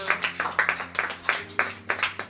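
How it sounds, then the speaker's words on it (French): A church congregation claps along in a rhythmic, steady beat, moderately close and fairly faint, with no talk over it. "Can you applaud for the Lord?"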